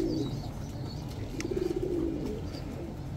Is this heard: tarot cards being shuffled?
no